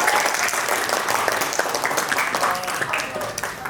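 An audience at a school quiz competition semifinal applauds Team C with a full, continuous round of clapping that stays strong throughout and has soft background voices under it.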